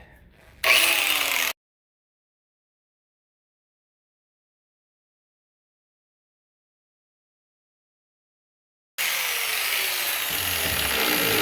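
A lawn mower blade is sharpened with a power tool, giving a loud grinding burst, a long silence, then a steady continuous grind to the end.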